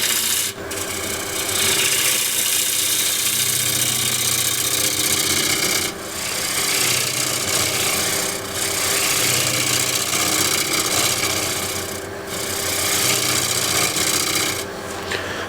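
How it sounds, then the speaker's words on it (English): A spindle gouge shear-scraping a wooden tray blank spinning on a lathe gives a steady, close rasping hiss that runs almost unbroken, with brief dips where the tool lifts off, and no talking. "So that's spindle gouge as a shear scraper"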